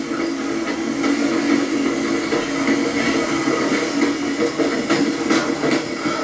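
Steady recorded train rumble with hissing and rolling rail noise, played continuously through a speaker at moderate volume at the historic 1830 B&O railroad station in Ellicott City, Maryland, with no voices.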